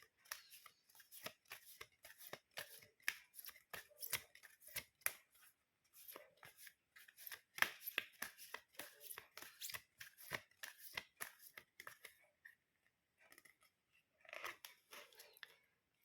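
Tarot cards are handled and drawn from a deck. Quick, close, crisp flicks and riffles come in rapid bursts with short gaps, soft but distinct against a quiet background.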